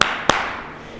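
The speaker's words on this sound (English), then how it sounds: "Usually I'll accompany that with 2 claps" Two sharp hand claps in quick succession during a dog's training session at home, close and loud, with a brief room echo and no talking.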